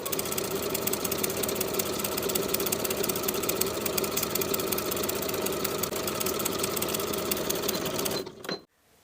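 A sewing machine stitches a knit T-shirt seam in one steady rapid whirring run, close and even, then stops abruptly near the end.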